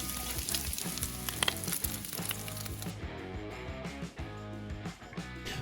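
Bacon frying crisp on a Blackstone griddle gives a close, busy sizzle with crackles and pops, loudest in the first few seconds, then quieter and softer.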